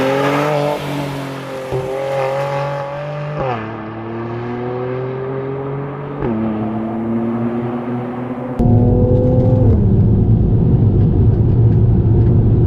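A VF Engineering-tuned 2020 Mercedes-AMG C43 coupe, 460 bhp, in Sport Plus mode, pulls hard through curves; its engine note climbs steadily, dips abruptly at several gear shifts, and ends in a louder rumble with broadband road and tire roar.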